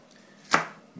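One quick knife chop on a cutting board while finely mincing a shallot, a single sharp close thud in an otherwise quiet moment, with the start of another stroke at the very end.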